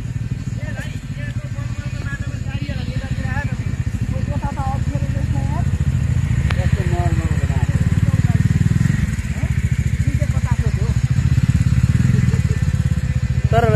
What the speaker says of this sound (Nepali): यी बाइक यति धेरै छन्